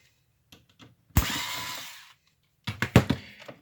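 A power screwdriver backs screws out of the power supply of an HP Officejet 8710 printer: two short close whirring bursts separated by a pause, with light clicks and handling noise between them.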